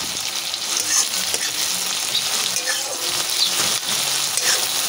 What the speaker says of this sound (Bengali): পেঁয়াজটা আমি একটুখানি হালকা করে ভেজে নেব